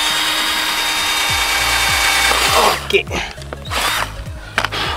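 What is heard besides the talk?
drilling a small hole in an RC jet boat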